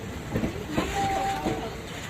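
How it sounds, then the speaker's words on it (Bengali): A passenger train rolls into NJP railway station, with a steady rumble of wheels on track and a brief high squeal partway through, moderately loud and close. "এনজেপি স্টেশনে ঢুকছে।"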